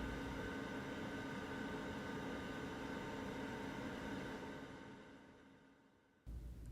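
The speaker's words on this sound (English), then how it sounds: "the quiet hum of your computer" A steady, quiet computer hum fills the room as an even broadband whir, holding constant before fading slightly near the end and then briefly returning.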